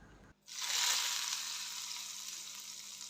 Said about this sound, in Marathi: आता त्यामध्ये एक चमचा मोहरी घालायची मोहरी छान तडतडली की चार पाच कढीपत्त्याची पानं दोन लाल सुकलेल्या मिरच्या